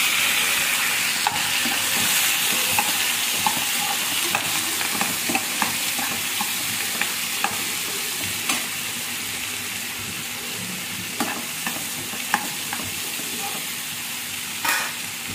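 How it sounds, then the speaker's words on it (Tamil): Mustard seeds, shallots and curry leaves fry in hot oil with a loud, continuous sizzle and spatter, broken by scattered pops and occasional stirring clicks. "கடுகு போட்டு பொரிஞ்சதும் சின்ன வெங்காயம் கருவேப்பிலையும் போட்டுக்கிறோம்."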